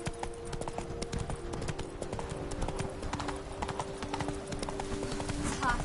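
Roach the horse's hooves clip-clopping in a video game, a brisk steady gallop of close, crisp hoofbeats running throughout over background music and ambience.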